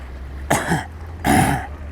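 A voice imitates two harsh coughs, one after another with a short pause between, close and fairly loud.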